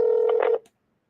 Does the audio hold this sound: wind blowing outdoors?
no